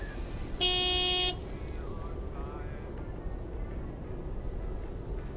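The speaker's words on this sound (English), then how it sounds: "Big, white, wobbly, and with a honking great horn." A big white truck's horn in the game Lake gives one loud, sustained honk lasting under a second, standing out over a steady low rumble of engine and ambient game sound.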